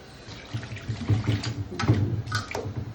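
Cut rita fish being rinsed in salted water by hand, soft splashing and swishing water in uneven bursts, close and fairly quiet.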